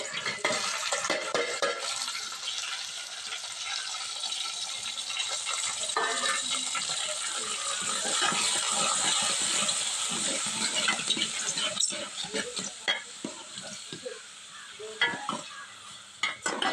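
Green chillies and tomato frying in a pan, a continuous close sizzle with repeated stirring scrapes throughout.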